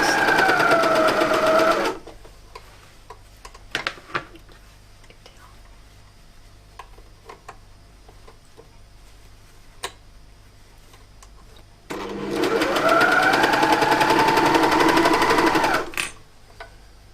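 A sewing machine stitching a shirt runs in two fast, whirring bursts, one at the start and a longer one later, separated by a quiet stretch with scattered small clicks and handling noises.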